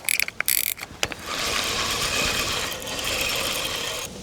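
Carp fishing rod's reel ratchets steadily as line is pulled out at a gravel-pit lake, a loud continuous mechanical clicking after a few brief knocks at the start.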